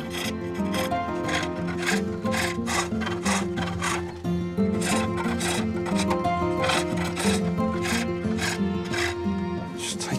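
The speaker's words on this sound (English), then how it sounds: "Gary's turning the cylinder into a pulley by cutting a groove in its rim." A tool cuts a groove into the rim of a wooden cylinder to make a pulley at a medieval castle build, producing loud, rhythmic rasping strokes that repeat steadily, close up.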